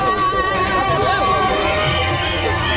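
Dense, noisy crowd packed together at the Sarangkheda fair, a constant babble of many voices with loudspeaker music or announcements carrying over the top, steady and loud throughout.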